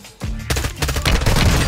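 Gunfire in the video game Warzone from a three-round burst M16 rifle, loud dense shots in rapid succession filling the short span, with booming low impacts and no talk.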